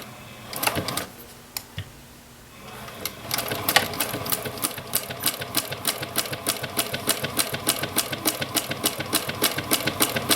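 A sewing machine stitches leather for a simple wristlet clutch. After a few separate clicks it settles into a loud, fast, steady mechanical chatter of repeated stitches.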